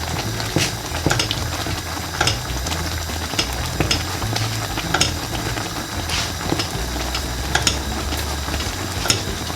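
A spoon stirs thick, hot maize meal porridge (ugali) in a pot and breaks up lumps. Scraping and thudding strokes repeat in an uneven rhythm, close and fairly loud over a low bubbling background, with no talking.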